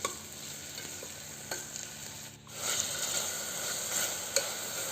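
Carrot, beans and peas stir-fry in oil in a pan, giving a steady close sizzle with stirring scrapes and the occasional light clatter, no voices.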